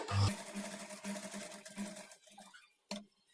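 A sewing machine stitches around a kurti neckline, its quiet motor humming steadily with faint rhythmic needle pulses. It slows and stops near the end, followed by a single sharp click.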